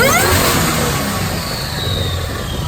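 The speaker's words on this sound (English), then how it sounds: "We're gonna do a dyno pull." A 2014 Dodge Challenger R/T, its factory 5.7-liter V8 fitted with a Whipple supercharger and Kooks headers, roars loud and steady on a dyno under sustained throttle, with no pauses and no talk.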